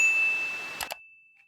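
A bright notification-style bell ding rings out with a sustained tone, two quick strikes sound near the end, then it fades to silence.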